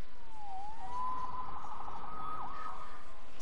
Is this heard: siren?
yes